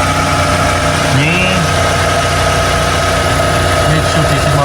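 The engine of a 2003 Mitsubishi Kuda Grandia idles smoothly and steadily, a continuous close-up hum with even rumble, while someone talks briefly over it.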